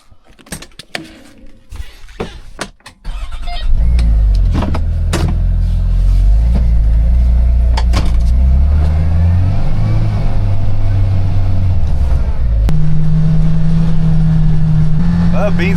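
A side-by-side utility vehicle starts with clicks and clatter, then its engine settles into a loud, steady drone with rising and falling revs as it drives, while people talk over the noise.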